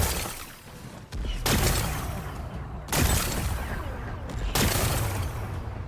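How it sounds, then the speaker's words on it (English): Explosive blasts breaking rocks in the game Horizon Forbidden West, three or four heavy booming bursts at irregular intervals, each trailing into rumbling debris, loud and close with no talking. "Gotta blast away some rocks, so I can expose the power cell."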